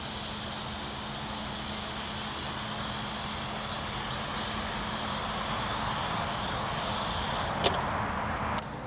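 A Hubsan X4 H502S FPV quadcopter drone lands with a loud, steady rotor whine and hiss that holds level throughout, then a brief sharp click near the end as it touches down.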